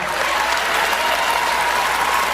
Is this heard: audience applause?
yes